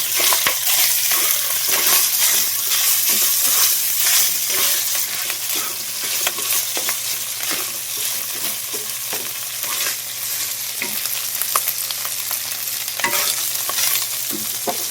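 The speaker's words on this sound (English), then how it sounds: "Now rice in the pan. So mix that around." Garlic fried rice is stirred and tossed in a hot pan, a loud continuous frying hiss overlaid with dense scraping and rustling of grains against metal, close and steady for the whole stretch without speech.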